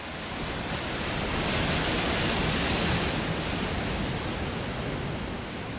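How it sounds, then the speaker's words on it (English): Steady broadband roar of ocean surf breaking on rocky shores and sandy beaches, a continuous wash of waves that swells slightly in the middle, heard alone without voices. "Waves batter rocky shores and sandy beaches and carry sediment to new places"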